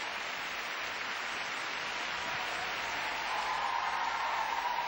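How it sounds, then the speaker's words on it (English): A standing ovation for figure skaters at an NHK Trophy event fills a large arena with dense, continuous crowd applause, steady and loud throughout and swelling slightly toward the end. "Standing ovation for these great skaters."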